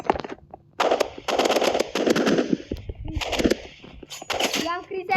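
Rapid bursts of automatic rifle fire rattle in a video game, several loud volleys separated by short pauses, with a voice talking over parts of the shooting.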